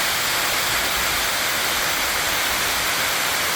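Waterfall north of Nakusp BC swollen with spring runoff, a loud, constant broadband roar of rushing water with no breaks or voices.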